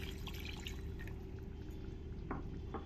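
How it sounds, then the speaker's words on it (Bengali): A small splash of water poured into a pan of butter paneer as it cooks, a faint trickle and drip that stays soft and close. "আর এর মধ্যে খুব সামান্য একটু আমি জল দিয়ে দেবো।"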